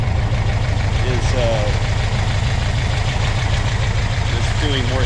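A rebuilt Porsche 356SC engine idles at low idle after carburetor work, a steady, loud, close mechanical chugging with an even pulsing rhythm throughout.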